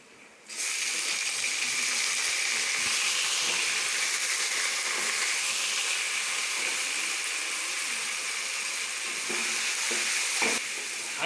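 Mutton pieces fry in hot oil on a high flame, giving a loud, steady, close sizzle that starts abruptly and runs throughout with occasional faint stirring knocks.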